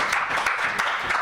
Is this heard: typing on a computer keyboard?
no